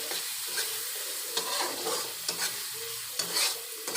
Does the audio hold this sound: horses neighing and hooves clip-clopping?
no